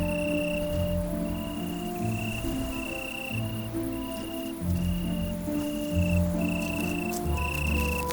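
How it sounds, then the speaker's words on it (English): Insects calling at night in a city: steady, pulsing cricket-like chirps repeat in a regular rhythm, layered over continuous tonal trills and a low background hum, fairly close and loud. "Insects search for mates"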